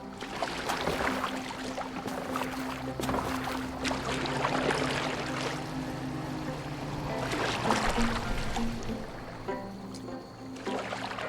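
A boat glides across water in the video game Assassin's Creed Valhalla, with steady splashing and lapping under a continuous musical score.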